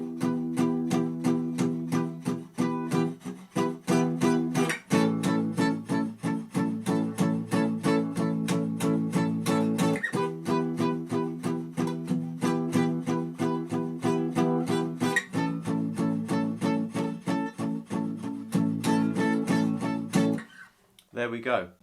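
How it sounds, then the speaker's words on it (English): Palm-muted guitar chugs out a steady run of short, clipped eighth notes alongside brief stabbed keyboard chords, a loud, busy rhythmic texture with no sustain, stopping abruptly near the end. "I'm going to be muting the guitar so that it doesn't allow the guitar to sustain."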